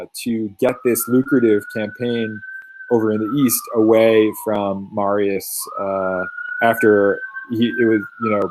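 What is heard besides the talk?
ambulance siren passing outside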